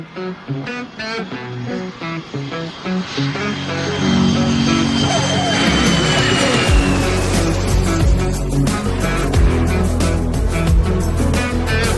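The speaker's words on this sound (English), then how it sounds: "Onyx 12 Mike Oscar, runway 27, clear for takeoff." A propeller aircraft accelerates for takeoff on runway 27, its engine note swelling from a rough, choppy idle into a loud sustained roar with rising whine, close by and dominant throughout.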